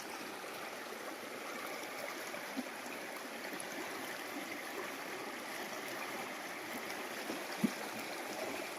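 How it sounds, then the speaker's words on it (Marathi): River water flows steadily at a fishing spot, a continuous broadband rush with faint gurgles and no talk. "सुंदर असे पाणी वाहत असताना आम्ही आलो फिशिंग करायला"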